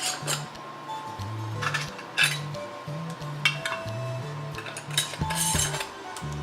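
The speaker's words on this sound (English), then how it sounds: "And on with the lids." Metal lids go onto glass jars of freshly made strawberry preserves, making bright clinks and light scraping taps in an irregular sequence, close by over a low, steady musical drone.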